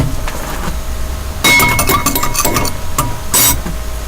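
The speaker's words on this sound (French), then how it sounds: "bien mélanger" A utensil stirs a mixture in a dish, with bursts of bright clinking and scraping against the sides that come in two close clusters over a steady background hum.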